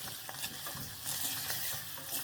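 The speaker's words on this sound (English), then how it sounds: "Keep stirring." Pilau stirred in a hot pot gives a continuous sizzle with repeated scraping strokes of the spoon, close and steady, with no voices.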